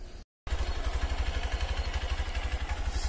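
A Hero XPulse 200 FI 200cc motorcycle engine runs steadily up close with a low, pulsing throb and rattly mechanical texture, after a brief silent gap at the start.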